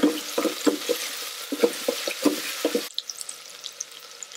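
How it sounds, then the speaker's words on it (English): Diced onion with salt frying in an Instant Pot, giving a soft, steady sizzle with a run of quiet stirring clicks and scrapes, fairly close, and no talk. "add half an onion diced. Add some salt to taste and also to help cook the onions faster."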